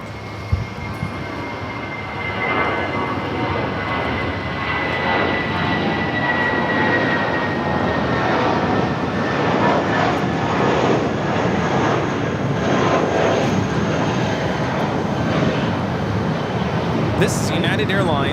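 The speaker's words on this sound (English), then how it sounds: "This is United Airlines 276 taking off to Jackson on the A320." A United Airlines Airbus A320 airliner takes off at Los Angeles International Airport, its engines giving a loud, steady roar that builds and holds for the whole stretch, with voices faintly audible in the background.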